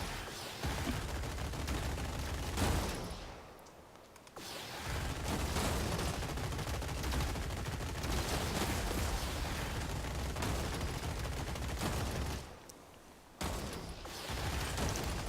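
Rapid machine-gun fire rattles almost continuously in a Gladiabots robot battle game, a dense unbroken stream of shots with two short pauses, under no talk.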